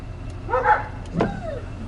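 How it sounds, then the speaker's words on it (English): Dogs bark and yelp a couple of times near a parked Chevy squarebody pickup with its engine running, short sharp calls standing out over a steady low idle. "Now my dogs are freaking out."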